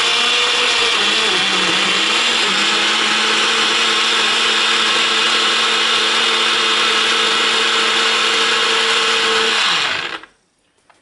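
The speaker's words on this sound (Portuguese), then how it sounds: "Eu tenho esse liquidificador Nutribullet." Nutribullet blender blending homemade tomato sauce, a loud, steady high-pitched whir running continuously for about ten seconds before cutting off abruptly into silence.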